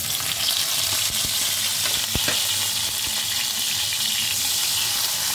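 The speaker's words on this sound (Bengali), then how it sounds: "গ্যাস অন করে কড়া বসিয়ে দিয়েছি, কড়াতে তেল দিয়ে দিয়েছি, 1/4 কাপ সর্ষের তেল দিয়েছি।" Potatoes fry in a quarter cup of mustard oil in a kadai, giving a loud, continuous hiss and sizzle with a few faint clinks from the pan. No voices are heard.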